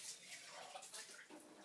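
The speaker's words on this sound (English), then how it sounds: "Just getting some standard tap water" Standard tap water runs from a faucet, a soft, fluctuating splashing stream heard close and quiet with no talking.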